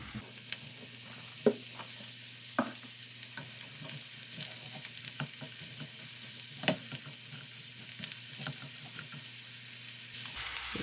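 Chopped eggplant and zucchini frying with fried onion in a pan, a quiet continuous sizzle broken by occasional utensil knocks and stirring scrapes.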